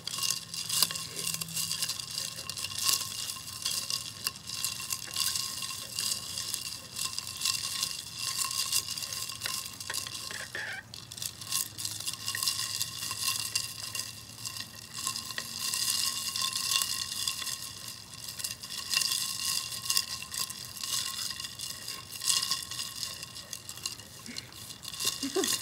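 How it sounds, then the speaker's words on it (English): A solution is stirred in a freezing point solubility experiment near −7 °C: faint, continuous rattling and scraping, close but quiet, with a low background hum and no talking. "Let's try a little longer of stirring."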